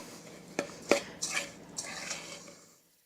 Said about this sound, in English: Now we will stir this together.